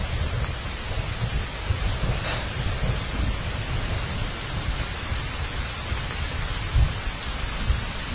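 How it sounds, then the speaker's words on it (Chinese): Sudden steady rain pours down with low rumbles of thunder rolling underneath, a continuous wash of noise with a couple of heavier swells near the end, no voices. "怎么突然下雨了呢？"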